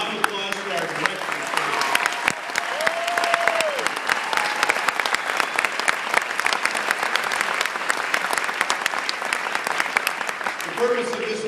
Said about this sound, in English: A round of applause for our director.